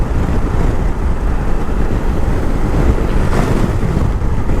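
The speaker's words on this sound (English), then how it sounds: "It's a very windy day today, I tell you that." Steady, heavy wind buffeting the microphone while riding a Honda Africa Twin DCT motorcycle, a constant low roar with no let-up, loud and close throughout.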